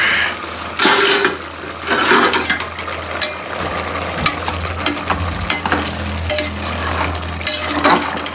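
Boiled eggs fry with masala in a cooker for egg biryani, a loud, close sizzle running throughout, with repeated scraping stirs and clinks of a utensil against the pot.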